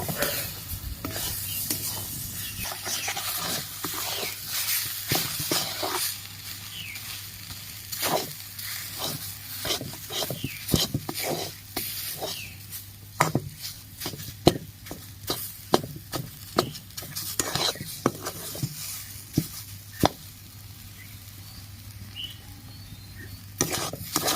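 Dhoka, Bengali lentil cakes, being stirred while cooking in a pan for dhokar dalna, with repeated sharp scraping and tapping strokes of a spoon over a steady low sizzle; the stirring sounds close and fairly loud, with no talking.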